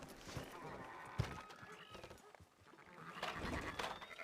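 Sheep bleat faintly in the Red Dead Redemption 2 video game, with a few wavering calls over soft hoof clip-clop and low background ambience.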